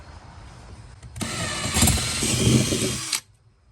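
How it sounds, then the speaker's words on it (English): A power drill whirs steadily for about two seconds, loud and close, drilling a hole in plastic, then cuts off abruptly. "All right, so let's drill it."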